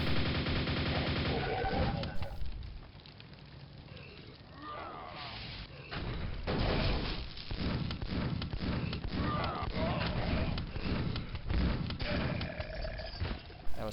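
Plasma rifle fire in the Quake video game, bursts of rapid energy shots crackling between pauses among other game effects, with a voice talking briefly at points.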